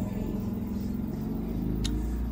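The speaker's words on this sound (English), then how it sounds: "Loud motorcycle." A steady engine rumble with revving drone runs throughout, loud and close, like a motorcycle going by.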